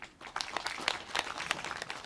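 Sparse, uneven handclaps from a small audience welcome the poet Song Kyung-dong at the Wonpyeong Jipgangso, a Donghak Peasant Revolution site; the claps stay fairly soft and come as separate sharp slaps for about two seconds.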